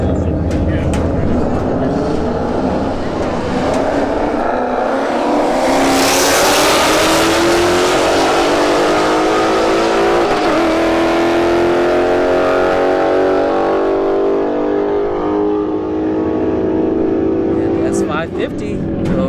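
Two Ford Mustangs, an S550 and an S197, drag racing side by side at a street-heat event at Bradenton Motorsports Park, their engines roaring loudly as they rev and accelerate away together under a commentator's voice.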